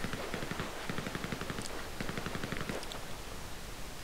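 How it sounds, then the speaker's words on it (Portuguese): Rapid bursts of automatic gunfire crackle through a GTA Online shootout, with dense overlapping shots at moderate distance and a few sharper reports standing out, no voices. "os gajos estão-se mesmo a curtir de matar um ao outro. Tiroteio macabro."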